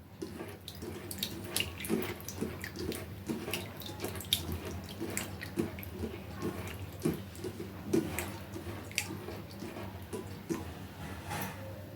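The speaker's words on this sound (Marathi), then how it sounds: "परत एकदा आपण स्वच्छ पाण्याने धुवून घ्यायचं आहे" Sago pearls are washed in a bowl of water, sloshing and splashing with repeated soft swishing and small drips, steady and close, with no talking.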